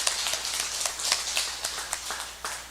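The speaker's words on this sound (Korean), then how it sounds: "우리 한번 박수." A church congregation at a Korean Sunday morning service claps together, a close burst of brisk, uneven hand claps lasting a few seconds.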